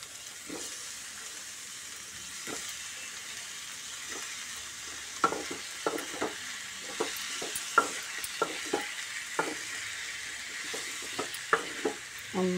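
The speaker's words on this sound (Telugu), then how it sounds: "మంచిగా మెంతికూర టమాటా మంచిగా కలవాలి." Fenugreek leaves and tomato are stirred in a frying pan over a soft continuous sizzle, with a series of distinct spatula scrapes and knocks against the pan, close and fairly quiet.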